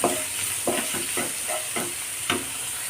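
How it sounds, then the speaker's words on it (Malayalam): Chicken samosa filling with onions and green chillies sautés in a pan, a constant sizzle broken by about six rhythmic scrapes of a spatula, close and steady, no voices. "എല്ലാം ഇട്ട് കൊടുക്കാം നന്നായിട്ടൊന്ന് വഴറ്റിയെടുക്കാം"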